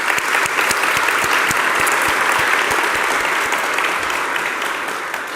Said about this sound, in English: just join me in a round of applause for our panellists today